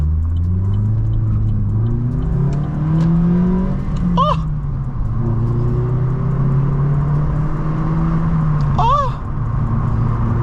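A 1.4 litre, 75 horsepower Vauxhall Corsa with a loud aftermarket exhaust revs and pulls on a night drive. A steady engine drone rises and falls, two sharp whoops come from the driver, and a little speech runs over it.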